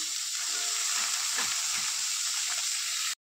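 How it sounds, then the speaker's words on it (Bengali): Kohlrabi and bean seeds fry in a pan while being stirred, giving a bright continuous sizzle with soft scraping strokes, close and steady, before cutting off abruptly at the end. "একটু নাড়াচাড়া করে দিয়ে দেব ওলকপি আর ফরাসের বিচি"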